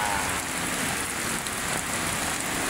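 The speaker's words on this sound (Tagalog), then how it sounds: "lumakas na ang ulan" Heavy rain pours steadily over Manila Bay, a dense, even hiss of drops drumming on surfaces with no pauses or voices.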